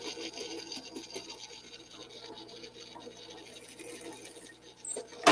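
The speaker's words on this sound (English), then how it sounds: "I'm going to drill the ends in it right now." A purple pen blank being drilled at the ends gives a raspy, grinding whir with scraping wood texture and background hum, ending in a brief sharp click.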